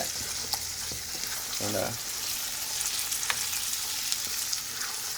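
Base curry is stirred into mango curry chicken in a hot pan, with steady sizzling and frying, scraping and clattering stirring strokes, and a brief spoken word.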